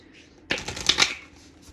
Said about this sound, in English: I'm doing the shuffle 3 more times.